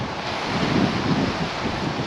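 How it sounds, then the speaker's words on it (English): Strong wind roars steadily into the microphone on the Humber shore, a dense, continuous blustery rush close up with possible surf underneath and no voices. "The wind got the better of me."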